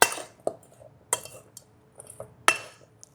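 A spoon scrapes and clinks against a bowl while stirring seasoned food with garlic powder and olive oil, several sharp metallic taps spaced irregularly over a quiet background.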